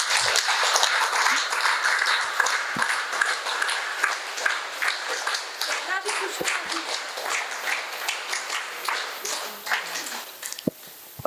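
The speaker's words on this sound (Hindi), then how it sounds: "ताली के लिए ताली कैसे बजे," An audience at a spiritual discourse in Mumbai claps along throughout, steady mid-distance applause that thins into scattered sharp claps near the end.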